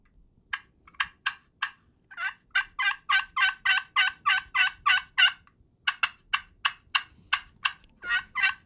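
Wooden box call worked by hand to imitate wild turkey yelps: a rapid, rhythmic string of raspy clucks and yelps, close and clear, in several bursts with brief pauses.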